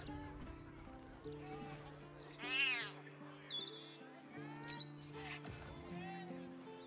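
A cat meowing in Baldur's Gate III, one clear, fairly loud meow standing out over a soft background of low sustained music tones, with a few fainter chirpy sounds afterward.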